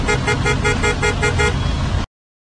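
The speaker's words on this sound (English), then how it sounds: "Some sounds are unpleasant, such as the sound of traffic." Busy road traffic rumbles loudly and close, with a rhythmic series of repeated car horn toots sounding over the engine noise for about two seconds.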